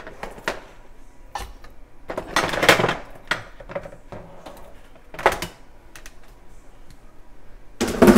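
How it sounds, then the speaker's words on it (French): Pork ribs being placed in a cooking pot, a series of separate clacks and knocks with scraping and clattering, some louder bursts among quieter gaps, with no talk. "Je les place dans la casserole."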